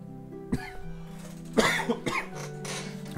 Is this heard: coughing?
yes